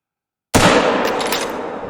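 A single loud rifle shot while hunting in Africa in theHunter: Call of the Wild, a sharp close crack after silence, followed by a long ringing decay.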